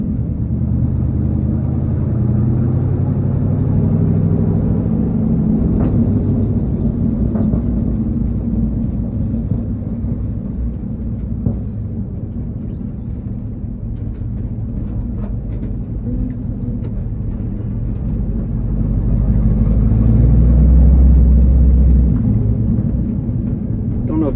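A Chevrolet squarebody with a 454 V8 and true dual straight pipes rumbles at idle, a deep, loud, continuous exhaust drone with occasional faint pops and a swell of revving near the end.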